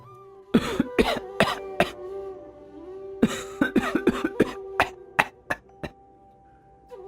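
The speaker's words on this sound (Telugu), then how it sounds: "నాన్నగారు మళ్ళీ దగ్గు వస్తోంది" A man coughs harshly in two bursts, several sharp coughs in quick succession, close by, over a faint steady tone.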